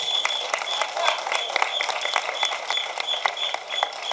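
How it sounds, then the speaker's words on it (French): Crowd applause and scattered clapping at an outdoor street march against hunger and the high cost of living, honouring the people's lawyer, steady and moderately loud over about four seconds, with voices mixed into the din. "Applaudissez-le."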